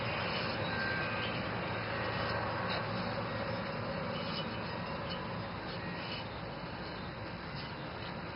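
A new wheel bearing in a Chevy Monte Carlo spins freely, giving off a steady, smooth whirring hum with a faint high-pitched whine, close up and continuous with no voices.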